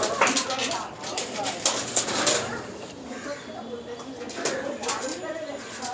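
A pair of brown Lakka pigeons coos softly at the Uluberia pigeon market, their low calls mixed into busy background chatter while someone talks close by.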